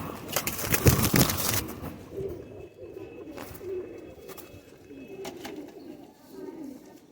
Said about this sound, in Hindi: सब बहुत प्यारे कबूतर है माशाल्लाह, बहुत ही प्यारे कबूतर है